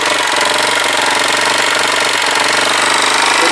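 A Kawasaki BN125 Eliminator motorcycle engine runs loud and rough with a rapid mechanical chatter, its pitch rising slightly as it revs on its own, with no voices.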